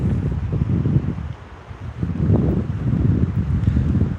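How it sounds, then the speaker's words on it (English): Wind gusts buffet the microphone in low, rumbling waves, rising and easing, with no voices. "It's pretty windy up here."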